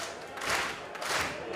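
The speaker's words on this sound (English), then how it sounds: "I didn't like him clapping." A wrestler claps to rally the crowd during a pro wrestling match, heard as a rough wash of crowd applause and cheering in an arena, moderately loud with no clear talk.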